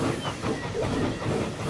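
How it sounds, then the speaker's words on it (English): A steam saddle tank engine in Transport Fever 2 passes close by with a steady rumbling rattle and hiss, a short loud burst of rolling wheels and machinery. "Oh no, there's a train there."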